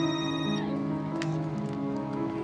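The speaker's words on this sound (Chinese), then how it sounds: "可裴姨却打电话来" A telephone rings with a sustained electronic tone for about half a second, followed by steady harmonic music in the background, with no voices.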